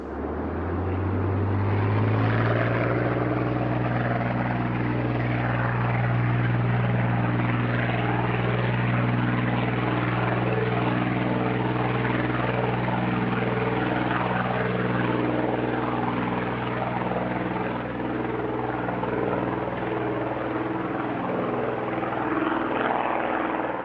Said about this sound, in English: Only 100 were built before production switched to the vastly improved MiG-3 that we see here